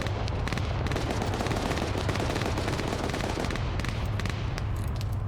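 Airsoft 240 Bravo machine gun firing during a large outdoor player-versus-player game: a loud, continuous rapid stream of shots close by, with no talk.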